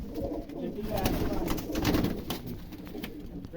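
Pet pigeons cooing close by in a loft, soft repeated throaty coos with a faint voice murmuring in the background.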